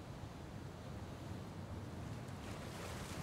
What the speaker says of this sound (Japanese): なんか波の音もたくましいっていうか、なんかさざ波って感じじゃなくて、もっと力強い感じ。